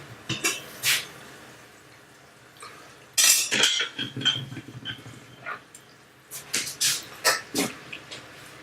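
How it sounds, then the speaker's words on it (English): Ladle scooping vegetables and rice from a pot into a bowl, a series of close metallic clinks and scrapes in irregular bursts with short pauses between. "I'm just ladling in"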